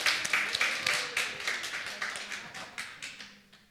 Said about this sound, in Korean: 박수 한번 쳐줄까요?